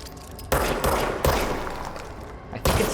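A gun fires in the video game Control in quick loud bursts: three sharp volleys close together, then a pause and another burst, with ringing decay between them and no talking.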